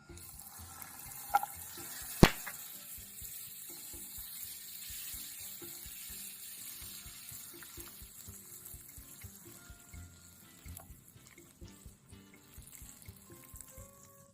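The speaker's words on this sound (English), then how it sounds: "Now that the cold butter has been added, the caramelization of the sugar has stopped." Cold butter hitting hot caramelized sugar in a skillet, giving a soft continuous sizzle and bubbling with a couple of sharp clinks early on, fairly quiet overall.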